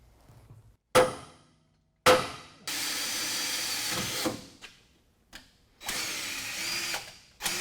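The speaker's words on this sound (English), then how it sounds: "We're going to pull it back apart and drill a hole." Power drill boring a 1 inch hole through a 2011 2WD Dodge Ram truck frame, heard in several loud bursts separated by brief pauses, with sharp starts and sustained grinding whine.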